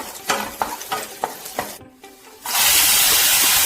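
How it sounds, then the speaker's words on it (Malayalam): Chopped cashews dropped into hot ghee, a handful of spoon clinks and taps against the pan followed by a loud, steady sizzle of frying that fills the rest. "ഇതാ ചൂടായ നെയ്യിലോട്ട് ഞാൻ അണ്ടിപ്പരിപ്പ് ഇട്ടെടുക്കാം കേട്ടോ"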